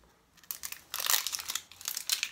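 Crinkly plastic seal being peeled and torn off a tiny 2.5-gram glitter jar, a few close, brisk crackling bursts in quick succession against a quiet room.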